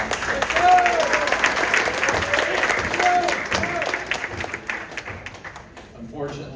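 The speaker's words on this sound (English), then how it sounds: "you can go ahead and clap" An audience at a spring sports banquet for a boys JV basketball team claps in a lively, sustained round that tapers off, with voices murmuring underneath.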